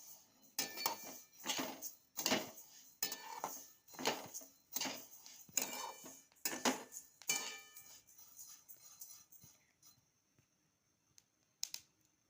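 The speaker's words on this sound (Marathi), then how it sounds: "त्यासाठी मी ते जवस भाजून घेत आहे।" Flax seeds dry-roasting in a pan for a garlic chutney, heard as a run of rattling, scraping stirs of the dry seeds against metal in regular strokes, close and fairly quiet, thinning out near the end with a few last clinks.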